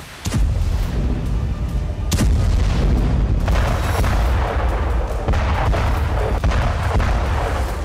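Artillery shells, MLRS rockets and missiles explode in the war in Ukraine, a continuous roar of heavy booms and blasts with several sharp, loud detonations overlapping through the whole stretch.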